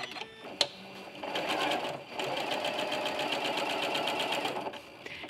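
Sewing machine stitching pieced fabric at moderate speed, a steady rapid mechanical chatter that runs for several seconds after a brief start, with a short pause midway before resuming.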